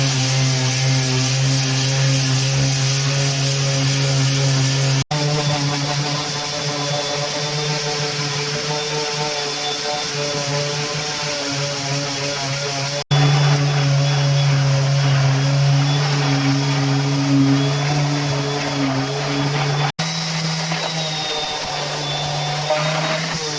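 Steady mechanical whirring of a power sander smoothing body filler runs continuously with a constant droning hum, briefly interrupted by a few cuts.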